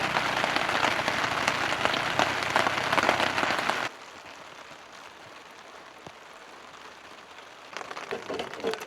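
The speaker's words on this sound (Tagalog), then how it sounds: "Ay, lumakas yung ulan." Heavy rain drums on a tent or shelter at a campsite, loud and dense for about four seconds, then drops sharply to a quieter patter before swelling again at the end.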